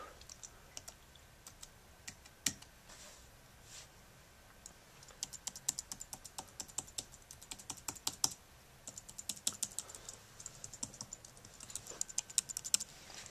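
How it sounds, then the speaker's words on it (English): Rapid clicks of someone typing on a keyboard connected to an iPad, in irregular bursts of keystrokes with short pauses, close and fairly quiet. "Check this out, using the keyboard."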